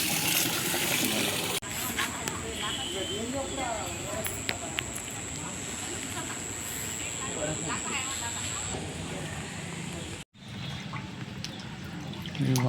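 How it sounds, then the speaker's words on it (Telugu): Water leaking and spilling from a faulty water tanker in a residential quarters area, a continuous splashing rush heard close up under a busy outdoor background, with a brief dropout near the end. "ఈ వాటర్ ట్యాంకర్లో నీళ్ళు ఇవే వేస్ట్గా పోతున్నాయి"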